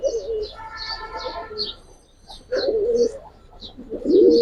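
Pigeons coo in repeated throaty bursts, with a female calling among them; the birds are Giribaz, silver mukhra, musaldom and army breeds. Soft higher chirps sit above the cooing, and a faint voice is heard at times.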